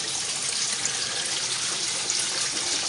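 Water pushed by an aquaponics pump pours into a bucket and through biomedia, a steady close hiss and splash that runs evenly throughout with no voices.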